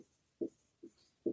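Chalk or marker strokes on a classroom board during a physics lesson, three short distinct taps or scratches spaced roughly evenly, close and clear in a quiet room.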